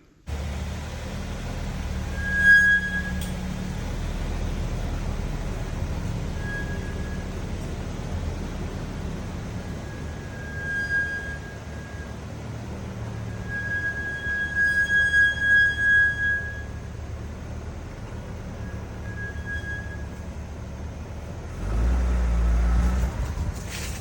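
A Lexus GX550 gives off a recurring high thin squeal, a brief chirp early on and then several longer whines, over a steady low hum of the vehicle. No one speaks.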